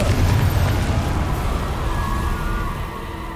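A Confringo fire spell bursts into an explosion in Hogwarts Legacy, a loud, deep blast that rumbles at once and slowly fades over a few seconds, with no talking.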